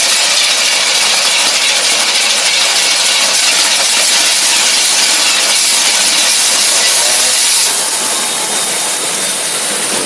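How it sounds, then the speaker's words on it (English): An engine running on a Holley teapot carburetor, a loud continuous broadband roar and hiss held steady throughout, close and unbroken, with no talk. "the carburetor runs perfect"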